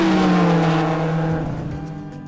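Fiat 500 hybrid with a 3-cylinder 70 hp Firefly engine driving past, a steady close engine drone that slowly fades and drops in pitch.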